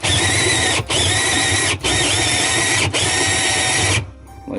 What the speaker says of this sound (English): if you have a cordless drill, make sure it's charged up good. Just start drilling down.